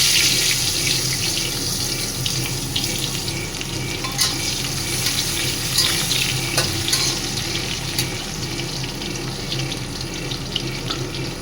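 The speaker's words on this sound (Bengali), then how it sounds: "জিরে, তেজপাতা একটু ফোড়ন দিয়েছি, দিয়ে পেঁয়াজগুলো দিয়ে দেবো" Cumin and bay leaf tempering in hot oil with onions going in for a Bengali katla fish curry, giving a steady, loud sizzle with a close frying hiss throughout and no talking.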